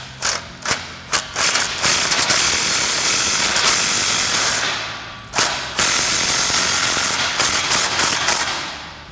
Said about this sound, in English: So now I'm going to take my gun and my 15 millimeter. I'm going to get up in here and snug this clamp up.